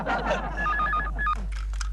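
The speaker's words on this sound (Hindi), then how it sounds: "वहां से दिलरुबा का फोन आ रहा है" A telephone rings in a domestic sitcom scene, a short warbling electronic trill heard briefly under people's voices, close and moderately loud.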